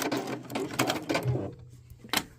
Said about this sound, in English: I'm going to start at the bottom again at 1/4 of an inch. And back stitch there at the top.